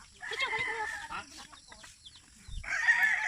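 Chickens and a rooster on a rural hacienda in Bicol: clucking and crowing calls rise and fall over a few seconds, with a louder call near the end. The birds sound fairly close.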